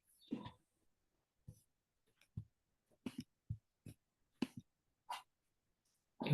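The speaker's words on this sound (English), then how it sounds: "Sorry, my dogs are barking." Dogs barking in short, separate bursts somewhere in a room, moderately close, with quiet gaps between barks.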